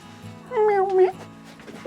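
A cat meows once in a woodworking workshop where teak is being cut. The meow is short, fairly close and clear, with quiet room sounds around it.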